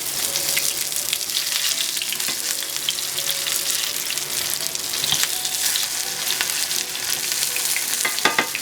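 Corn fritters fry in a home-kitchen pan with a steady, close sizzle that fills the whole stretch, broken by a few sharp scrapes and clinks as a spatula turns them over.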